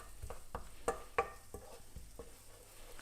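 Shallots in about a tablespoon of butter over medium heat, stirred in the pan, giving soft frying hiss with a series of light scraping taps spaced about every third of a second; quiet and close.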